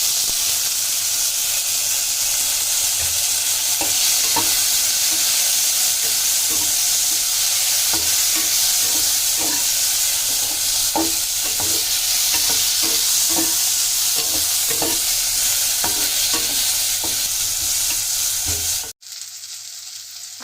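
Tomatoes frying in a pan give a loud, continuous sizzle under repeated scraping stirs, and the sizzle drops briefly near the end.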